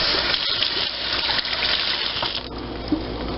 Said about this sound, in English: I'm going to rinse off my knife. Rinse off my peppers.